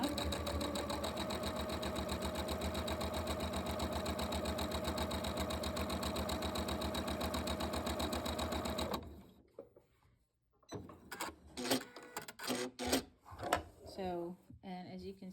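A sewing machine stitches quilt blocks together in a loud, fast, steady whir for about nine seconds, then stops, and someone talks while fabric is handled.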